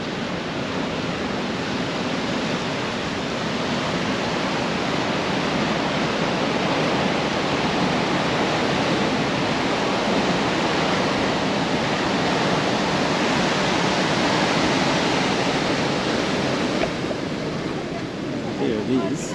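Steady rain falls outdoors by a river, a dense, even hiss of drops that stays constant and loud for the whole stretch, close to the microphone and without pauses.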